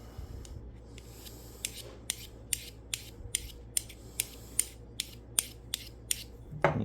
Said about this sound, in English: we're going to cut the edge off of this knife